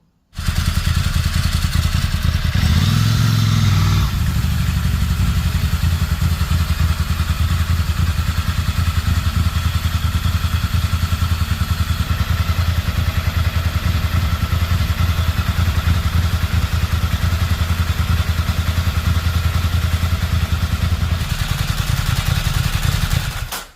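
A Ducati motorcycle with a dry clutch and a clutch drag problem fires up and runs, a loud close engine with a rapid even beat and rattling clatter, briefly revving near the start before settling into a steady idle.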